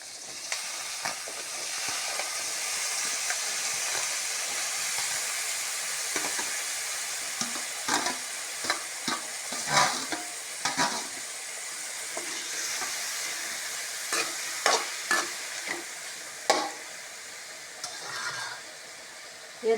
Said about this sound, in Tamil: வெங்காயம் எண்ணெய் ஊற்றி வெங்காயம் மிளகா கறிவேப்பிலை எல்லாம் போட்டு வதக்கி விட்டு பெருங்காயத்தூளும் அதிலே போட்டுக்கணும்